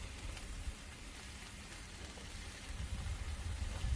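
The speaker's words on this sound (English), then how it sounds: "I'm gonna fry these pita breads." Pita breads frying in hot oil on a Blackstone griddle, a steady, dense sizzle and crackle that runs throughout and grows a little louder toward the end, with no talking.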